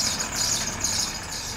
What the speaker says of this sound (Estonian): Karel, see on sinu buss seal või?